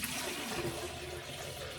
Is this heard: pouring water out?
yes